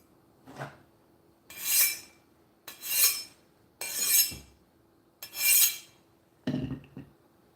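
A vintage Chinese chef's knife is drawn along a German honing steel in five separate slow, rasping strokes, each swelling and fading, with a shorter metallic scrape at the end; close and clear, no talking.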